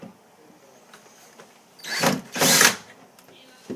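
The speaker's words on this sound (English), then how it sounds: "It's a bit hard to hold the drill with one hand." A power drill whirs in two short bursts, loud and close, after a stretch of quiet handling noise.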